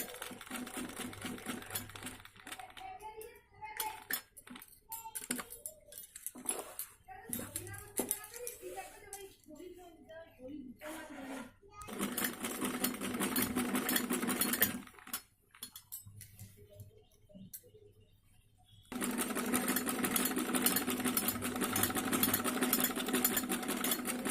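A sewing machine stitches the side seam of a kameez in several bursts, with quieter handling of cloth between runs and a long steady run near the end.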